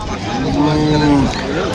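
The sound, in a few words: Friesian cattle mooing at a market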